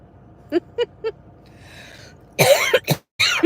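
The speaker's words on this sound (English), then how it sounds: "Today I've been coughing like crazy." A few short, sharp coughs, then heavier harsh coughing and throat clearing, close and loud.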